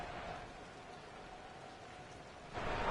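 Steady rain falls over an NFL football game field, a continuous soft hiss that swells louder near the end, with no voices.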